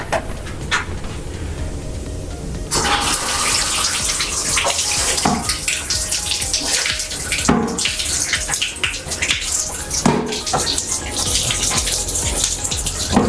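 Water runs hard from a newly fitted faucet during a bathroom remodel, a loud steady gush while something is rinsed, broken by a few brief clunks and shifts in the flow.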